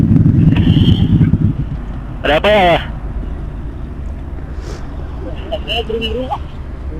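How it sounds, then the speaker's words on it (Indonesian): A motorcycle exhaust being revved during a test gives a loud, deep rumbling roar for the first second and a half, then drops to a low idle hum while people talk nearby. "itu ngetes knalpot"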